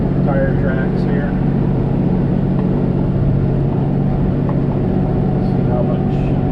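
A vehicle drives slowly over soft ground, packing it down with staggered tire tracks, its engine rumbling steadily up close while a person talks over it.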